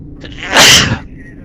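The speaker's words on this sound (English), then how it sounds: "sorry, I sneezed." A single loud, explosive human sneeze bursts out close up, preceded by a short sharp intake and followed by quiet.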